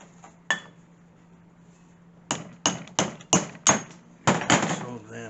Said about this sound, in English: once I tapped it right in with the hammer